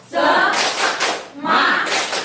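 A group claps together in two loud, rhythmic bursts during a standing cheer at a training session, with voices mixed into the clapping.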